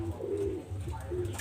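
Pigeon cooing in low, soft, warbling phrases, repeated several times at close range against a steady background murmur, with no clear speech over it.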